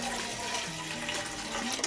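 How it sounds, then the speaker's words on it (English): Water runs steadily from a tap to soak an item for cleaning, a continuous faint splashing stream with no talk. "so I just soak it in water for a little bit"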